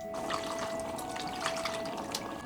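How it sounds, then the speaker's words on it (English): Tap water runs steadily as fish and vegetables are rinsed in a Bangladeshi lake-island village home, a continuous close trickle and splash with small irregular spatters. "rinsing them with water from their tap"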